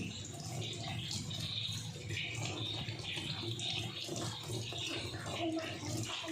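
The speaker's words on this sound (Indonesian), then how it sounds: "Kita mencuci tangan dengan air yang mengalir." Running tap water splashes steadily over hands being washed at a sink during a midwifery practical exam. The wash is continuous and fairly close, with a faint voice in the background.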